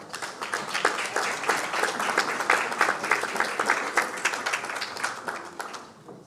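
Audience applause welcoming panelists at a Spanish-language public health forum, a dense, steady wash of many hands clapping that holds for several seconds before fading out at the end.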